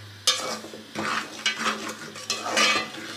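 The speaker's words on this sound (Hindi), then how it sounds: "हम इसको चमचे से जो है वो थोड़ा सा हिलाएंगे ताकि चीनी जो है वो अच्छे तरीके से मिक्स हो जाए" A metal spoon stirs semolina halwa roasting with sugar in a pan, with repeated scraping strokes that come and go in bursts over a faint sizzle, close and fairly loud with no voices.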